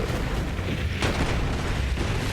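Explosions from a Moze explosion build in Borderlands, a continuous rumbling blast texture with one sharper burst in the middle, dense and loud without speech.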